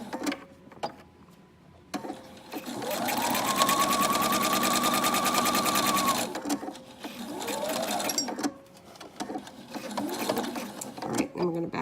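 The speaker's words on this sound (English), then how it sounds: "I'm going to take a few stitches forward." A sewing machine stitches fabric for homemade ice and heat packs, whirring in a sustained burst, then a shorter run and brief stops, heard up close at a moderate level.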